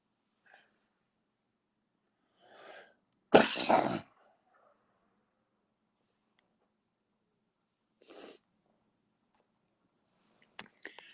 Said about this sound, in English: I keep coughing all the time.